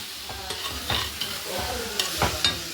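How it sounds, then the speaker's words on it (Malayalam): A spoon stirs chopped jackfruit in a pan for thoran, with several distinct scraping strokes over a soft continuous sizzle, close and moderately loud, no talking. "ഇതൊക്കെ ഇട്ടിട്ട് നമ്മളൊന്ന് ജസ്റ്റ് ഒന്ന് ഇളക്കാം"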